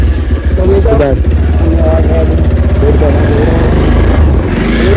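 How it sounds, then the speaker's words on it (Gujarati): A motorcycle engine runs steadily while being ridden along a road, a continuous loud drone with rising and falling pitch, mixed with a voice-like sound throughout. "બાઈકનો અવાજ આવે વિડીયોમાં"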